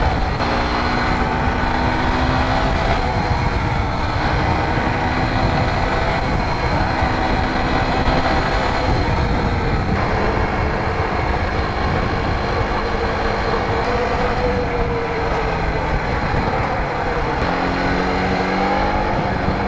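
A Polaris ATV quad bike accelerates along a street in Lonavala, its loud, steady engine drone rising and holding close by for the whole stretch with no pauses.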